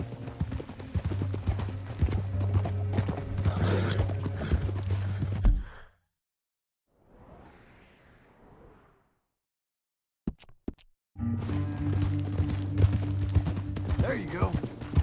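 Horses' hooves clip-clopping in a steady trot in Red Dead Redemption 2, with game ambience and voices talking over them; the sound drops to near silence in the middle before the hoofbeats return.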